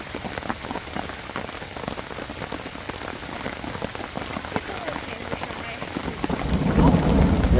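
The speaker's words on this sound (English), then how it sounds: "See if we hear thunder." Steady rain patters on a surface, dense and close, during a severe thunderstorm in Indiana, and a low rumble of thunder builds toward the end.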